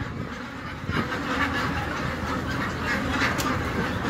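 A huge farm flock of tens of thousands of ducks quacking continuously, a dense loud chorus of overlapping quacks with no pause.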